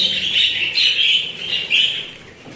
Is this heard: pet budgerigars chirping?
yes